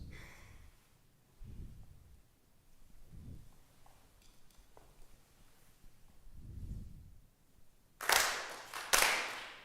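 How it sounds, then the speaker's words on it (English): Ritual hand claps ring out at a Konko memorial service: two sharp, bright claps near the end, set after long stretches of quiet breathing and low rustle in a hushed room. "4 sincere claps."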